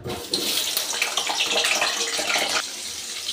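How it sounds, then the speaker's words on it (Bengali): Potatoes frying in hot mustard oil in a wok produce a dense, loud, hissing sizzle that starts abruptly, holds steady at close range, then eases slightly toward the end. "আলুগুলো আমি লাল লাল করে ভেজে নিচ্ছি।"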